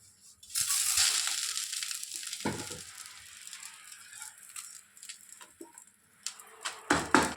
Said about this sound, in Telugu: ఇది మునగాకు ముందు వేయించుకుందాం ఇందులో ఉన్న ఆయిలే సరిపోతుంది